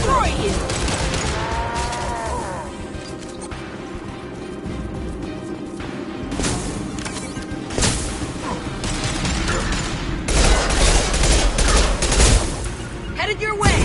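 Sci-fi gunfire from the video game Mass Effect 2, with bursts of automatic weapon fire and impacts mixed into a dense combat soundscape under music and effects, with voices speaking at times.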